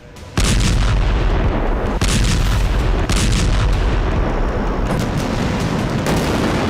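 A huge blast in Syria rolls on as a loud, continuous low rumble with heavy crackling bursts, sustained and dense throughout with no voices.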